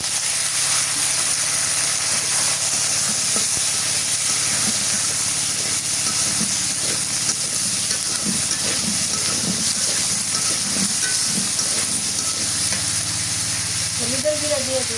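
Potato and taro pieces hit hot oil over fried onion in a home Bengali vegetable dish, giving a loud, steady hiss and sizzle that runs unbroken throughout.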